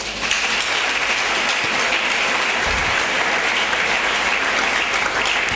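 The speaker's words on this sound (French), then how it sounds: "Oh, acclamons cela." A church congregation applauds during a sermon, dense and loud clapping sustained evenly from start to finish.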